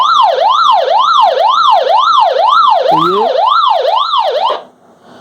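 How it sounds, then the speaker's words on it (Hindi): A loud electronic siren from an Alinco DJ VX 46 walkie-talkie's alarm button wails in a fast rising-and-falling cycle for about four seconds, briefly overlapped by a short voice, then cuts off abruptly. "ये सायरन की आवाज़ देता है तो आपकी टीम को तुरंत संदेशा चला जाता है"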